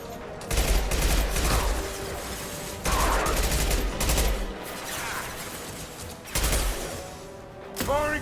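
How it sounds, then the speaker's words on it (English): Gunfire and a concussive shot in the video game Mass Effect 2: repeated bursts of loud fusillade come in separate volleys, each lasting a second or two, with brief gaps between them. "Firing concussive shot!"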